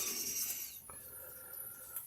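Short rasping strokes of sandpaper on a small slot car body, faint and close, with a scratchy rubbing texture and a light tap near the middle.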